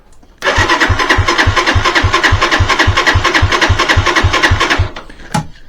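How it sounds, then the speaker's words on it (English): A Lifan motorcycle engine cranks on its electric starter with a new battery, a loud, fast, even chugging turnover for about four seconds that winds down without firing. "That is good, strong turnover, is that, which is way more than the old battery has done"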